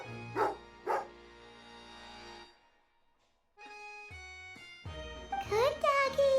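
A cartoonish dog gives two quick, sharp barks near the start, followed by a pause, then chiming, jingling tones and a high, excited yip-like sound at the end.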